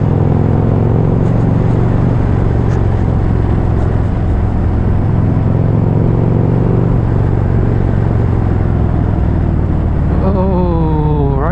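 A 2018 Harley-Davidson Street Glide cruising on the road, a steady loud engine drone with deep low rumble throughout, plus wind noise and a rising rev near the end.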